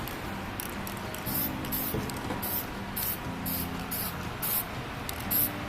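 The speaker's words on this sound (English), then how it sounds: "Time to spray paint these up." Repeated short hissing bursts from an aerosol spray can, evenly spaced, close up and over a low background hum.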